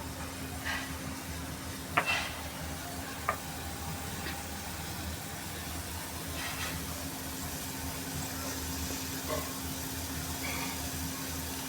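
A pot of spiced buttermilk sabzi with sev simmers quietly and steadily, with a couple of faint spoon clinks as it is stirred.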